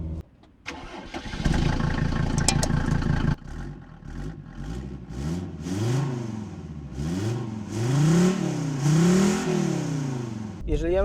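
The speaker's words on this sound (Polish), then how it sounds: "Teraz sprawdźmy sobie, jak ten samochód brzmi" A Mercedes-Benz W124 car engine starting, then running and being revved repeatedly, with rising and falling pitch in a series of blips, near and fairly loud.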